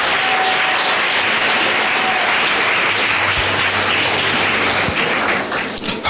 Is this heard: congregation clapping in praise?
yes